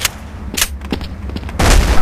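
Gunfire in the video game Counter-Strike: Source sounds as loud, sharp cracks in an uneven series, ending in a heavier, sustained burst, with no talking over it.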